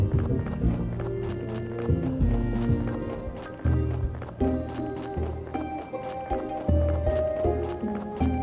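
A donkey in the Graveyard Keeper video game walks along with a light clip-clop of hooves, mixed under continuous background music.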